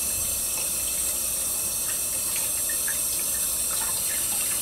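Cold water runs steadily from a kitchen tap while a smooth-top cooktop is being scrubbed, a continuous close hiss of flowing water with no talking.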